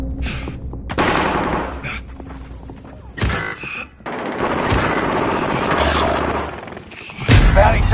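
Loud bursts of automatic gunfire and heavy shots from a Call of Duty video game, coming in several clustered volleys with short gaps, close and intense, with faint voices now and then.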